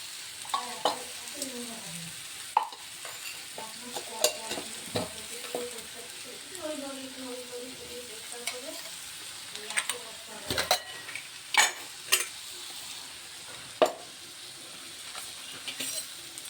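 Crushed whole spices (cinnamon, cloves and green cardamom) sizzle softly in ghee in a home kitchen pan, with a spoon scraping and clinking against the metal at irregular intervals over a low, continuous frying hiss.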